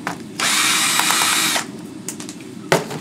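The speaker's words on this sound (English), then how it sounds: "you're not supposed to take these apart with a cordless drill" Cordless drill used on a laptop, one loud whirring burst of about a second, then faint clicks and handling noises and a second brief whine at the end.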